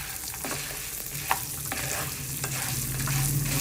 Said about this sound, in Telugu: పల్లీలు ఫ్రై చేసుకోవాలి.